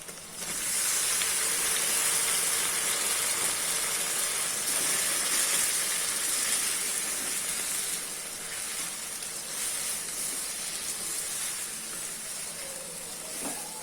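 Tomatoes sautéing in a pan with onion and garlic, a continuous hissing sizzle that stays fairly even and close throughout, with no talk.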